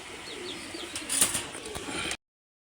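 Racing pigeons kept in a loft give soft, low cooing calls amid faint bird chirps and background noise; the sound stops abruptly near the end.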